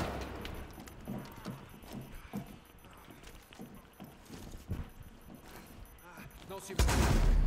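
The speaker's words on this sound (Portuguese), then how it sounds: "Fui pegar o Black, dei um tiro nele, pegou no escudo e não destruiu." Bursts of gunfire in a Rainbow Six Siege match crackle repeatedly through the stretch, sharp shots scattered among steady background game noise, with a louder burst near the end while players talk over it.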